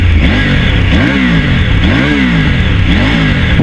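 Triumph Tiger 900 GT adventure motorcycle with an inline-three engine, revving loudly and close, its pitch rising and falling in repeated throttle blips over a steady idle, no voices.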